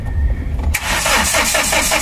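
A Hyundai H100 diesel engine cranks briefly, then catches and settles into a loud, close, steady idle clatter with no talking.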